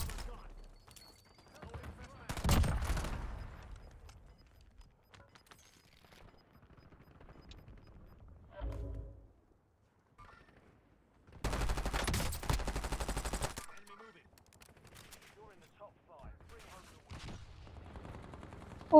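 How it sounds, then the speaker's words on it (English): Bursts of gunfire in a video game prison courtyard, several loud rapid volleys separated by quieter stretches, with a player's voice talking over parts of it. "Be careful, there's people shooting."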